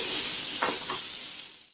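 Pigeon meat frying in a pan over a medium flame while being stirred: a steady, loud hiss of sizzling oil with a couple of brief scraping stir strokes, fading out at the end.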